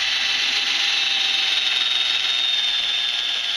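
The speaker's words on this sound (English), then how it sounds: "This will allow you to be able to see the holes in order to drill down through for your mounting points" A high, steady drilling whine runs continuously without pause as mounting holes are drilled for a mud mower gas pedal, close by and fairly loud, with no voices.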